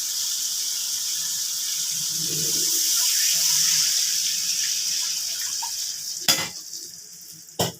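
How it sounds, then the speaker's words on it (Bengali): Broth poured into a hot pan of cooked-down spices for a hilsa fish curry, a loud sizzling hiss that swells and then settles, close up, with a couple of sharp knocks near the end. "এবার ঝোল দিয়ে দিচ্ছি।"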